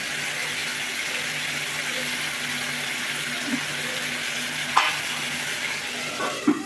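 Parshe fish curry stirred in a pan over a high flame gives a steady, even sizzle throughout, with a few soft scrapes and clicks of the spoon near the end.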